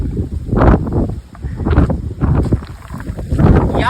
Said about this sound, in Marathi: वारा असा मागं खेचतोय आपल्याला.